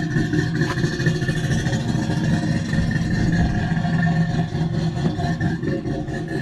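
A Ford Mustang Boss 302 engine runs steadily, a deep, rumbling idle with a throaty low-end growl that stays loud and continuous, with no speech over it.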